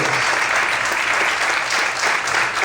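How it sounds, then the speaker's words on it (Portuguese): A church congregation at an evening service applauds loudly and continuously, a dense close wash of clapping filling the room. "Quantos podem aplaudir ao Senhor nessa noite?"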